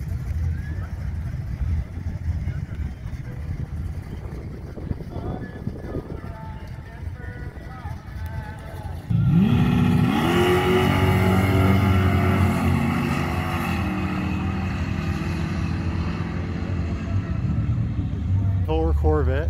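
A drag racing car at Powerhouse Motorsports Park launches halfway through with a sudden loud roar that climbs in pitch as it accelerates down the strip, after a stretch of idling engines and crowd noise, with voices underneath.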